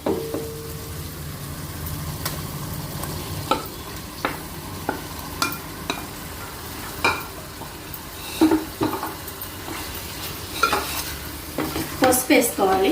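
Washed prawns tossed into a pan with fried tomato and stirred, giving a steady sizzle with frequent scraping and clinking of the spoon against the pan, close and fairly loud.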